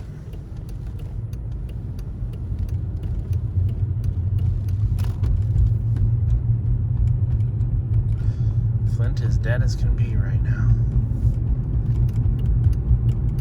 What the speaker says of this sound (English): You can start to hear the tires at this speed, but it's not bad.